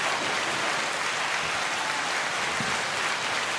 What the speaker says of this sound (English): I'll sit here all night with this applause on for you